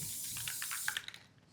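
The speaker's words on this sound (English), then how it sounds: "Spraying it up, we're going to make a little cloud." An aerosol can sprays a fine mist while Easter decorations are being made, giving a steady hissing spray near the mic that sputters into short bursts before stopping.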